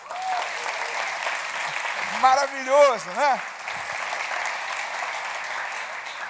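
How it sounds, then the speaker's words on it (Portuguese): A church congregation keeps up sustained applause through a moderate, even wash of clapping, while someone speaks over it briefly in the middle. "Você pode aplaudir ao Senhor?"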